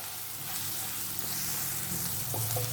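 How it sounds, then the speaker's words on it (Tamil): Chopped onions sautéing with ginger garlic paste in a pan while prawn gravy is cooked, giving a steady close sizzle and frying hiss with faint stirring, and no talk. "இதை நல்லா வெங்காயத்தோடு சேர்த்து நல்லா வதக்குங்க."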